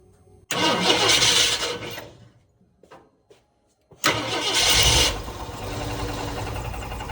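A 1968 Ford F250 engine cranks and catches, roaring loud and close for about a second and a half before dying into quiet, then a second cranking fires it again into a steady running roar.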